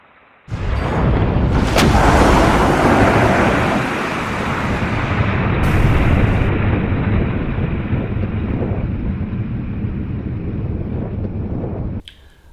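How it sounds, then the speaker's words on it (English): A missile launching on rocket power, a sudden loud roaring rush that holds steady for about ten seconds before cutting off abruptly. "Watch this missile being launched."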